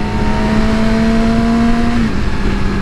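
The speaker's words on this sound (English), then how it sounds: "I'm gonna downshift to third." A 2017 Yamaha R6 sport bike engine holds a steady, loud high-pitched drone, then drops in pitch near the end as the rider downshifts to third with no clutch, heard close with wind noise and no talking.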